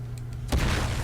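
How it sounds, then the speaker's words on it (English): A car blows up in Uncharted 4 multiplayer gameplay on PS4, a single sudden low boom that cuts in over a quiet hum and leaves a sustained rumbling wash behind it. "that car exploded."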